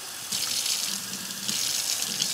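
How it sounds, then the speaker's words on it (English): Cold tap water pours steadily into a measuring cup while preparing cornstarch slurry for a stir fry, a continuous splashing rush that starts after a brief quiet moment and runs without pause, close and fairly loud. "I'm going to put 1 cup of water. I'm going to put cold water in."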